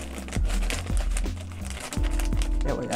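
Scissors cut into a thick plastic bag holding two 14-ounce packs of collard greens, with crinkling and several sharp snips close up and a brief spoken remark.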